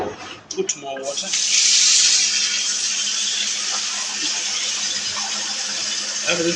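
Tap water running steadily over beef being washed in a kitchen, a loud continuous hiss and splash after a few brief clatters at the start, with no talking.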